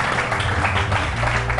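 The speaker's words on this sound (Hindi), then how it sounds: "वेरी गुड, इस पे तालियां होनी चाहिए" A studio audience on a morning talk show claps in a short, loud burst of steady, dense applause, close and continuous with no speech over it.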